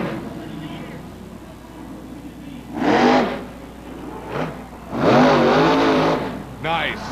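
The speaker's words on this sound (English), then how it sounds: "This is the first guy we've seen to come out of the hole really hitting the throttle, getting some momentum." A 10,000-pound monster truck's engine roars in bursts as the driver hits the throttle at a Monster Jam freestyle event in Orlando, loud surges rising over a constant rumble while a commentator talks.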